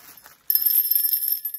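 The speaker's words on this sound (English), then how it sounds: "This is the doorbell for the dogs." Hanging dog doorbell jingling with a bright metallic ring that starts suddenly and keeps shimmering, after a moment of soft rustling.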